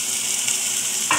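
Chopped onion and garlic sauté in a pan with a dense, continuous sizzle, and a brief stir or spatter comes near the end of the short burst.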